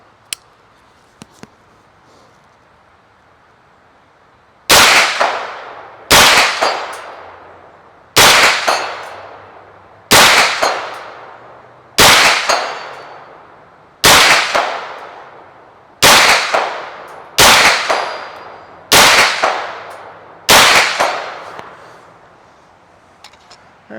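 A carbine fitted with a red-dot optic fires about ten loud, evenly spaced single shots at a steel target 100 yards away, each sharp crack followed by a decaying ring, with quiet pauses in between.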